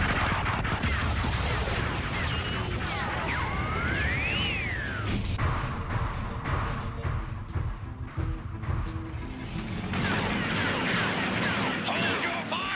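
Cartoon gunfire from a Transformers episode, with rapid bursts of shots layered under sweeping laser-like effects and loud action noise, continuous and close throughout.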